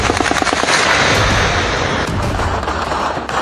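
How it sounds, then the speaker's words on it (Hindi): Rapid bursts of automatic gunfire during a protest in Pakistan-occupied Kashmir, loud and continuous with dense overlapping shots and no voices. "पहला फायर, दूसरा फायर, तीसरा फायर"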